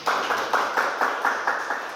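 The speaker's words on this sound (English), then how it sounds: "Give him applause, please." A small audience at a startup talk claps along in rhythm, a steady run of about eight even, quick clap bursts with a hall-like wash between them, moderately loud and with no talk.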